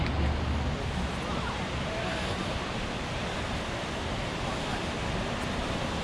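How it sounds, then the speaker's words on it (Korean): Waterfall on a hiking trail near Portland, heard as a steady broadband rush of falling water with no pauses, moderately loud and constant. "이게 폭포인데"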